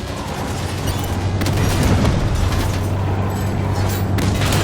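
Turret fire and combat rage in Halo 5: Guardians, a dense wall of rumbling blasts and crackling gunfire layered into a continuous, loud barrage with heavier booms swelling midway.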